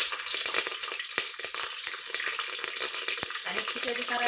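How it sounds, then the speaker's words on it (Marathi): Green chillies and mustard seeds fry in hot oil in a pressure cooker, giving a dense, close sizzle with sharp crackling pops scattered throughout. "तडतडली ना की त्यात मिरच्या टाकून घेते."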